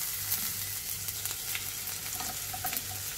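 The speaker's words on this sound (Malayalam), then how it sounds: "ഇത് ലേശം ഉപ്പിട്ടിട്ട് നമുക്ക് നന്നായിട്ട് വഴറ്റാം" Onion, garlic and ginger sautéing with salt in a pan for a green peas curry, a continuous near sizzle with soft stirring scrapes and light clinks, no voices.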